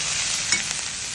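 Brinjal pieces with salt and turmeric stirred in a hot pan, soft sizzling with a couple of brief scraping touches of the spoon, close and steady.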